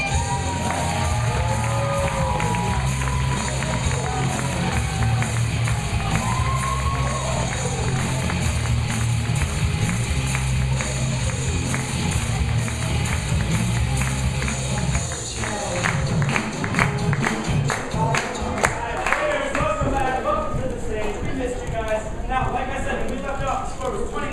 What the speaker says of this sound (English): it's time for us to take a moment to clap, scream, and cheer as we welcome back our players